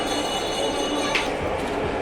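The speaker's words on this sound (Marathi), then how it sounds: "तर अशी ट्रेन येते, बघू शकता तुम्ही." A train runs inside AGS Mall with a steady mechanical rumble and hum, a faint metallic clink partway through, heard from close by without speech.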